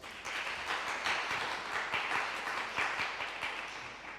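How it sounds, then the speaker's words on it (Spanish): A welcoming round of applause from an audience at a documentary film presentation, a steady, fairly faint patter of many hands clapping that continues throughout with no talking. "les pido un aplauso de bienvenida"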